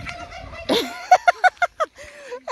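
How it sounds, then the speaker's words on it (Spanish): A rooster and two hens cluck nearby in a quick series of short, sharp notes after a lower squawk, with a faint voice in the background. "un gallo con dos gallinas"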